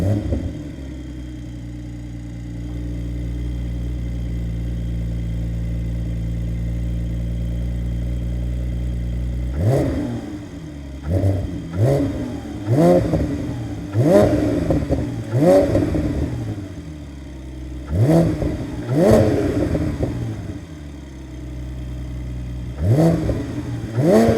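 Porsche 718 Spyder fitted with a Cargraphic race X-pipe exhaust, recorded from behind the car: a steady low idle for several seconds, then a series of sharp, loud throttle blips and revs that rise and fall repeatedly.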